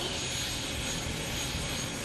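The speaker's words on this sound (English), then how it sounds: "the Y2K makes a sound signature unlike anything else on wheels" Steady, dense turbine whine of the MTT Y2K turbine-powered motorcycle, a continuous jet-like roar with a bright high hiss, loud and unbroken throughout.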